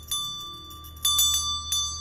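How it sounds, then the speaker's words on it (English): A small bell rung to open a class session, three clear chimes spaced about a second apart, each ringing out with a bright lingering tone in a quiet room. "I ring our bell."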